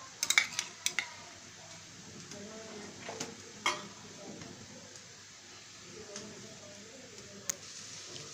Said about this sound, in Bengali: এর ভেতর দিয়ে দিচ্ছি পেঁয়াজ কুচি, রসুন কুচি, সব কিছু আমি সুন্দর করে ভেজে নিব।